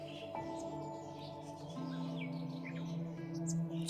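Pigeons at a pigeon club chirp and call over a steady hum, with short tweets and warbling notes scattered throughout at moderate distance.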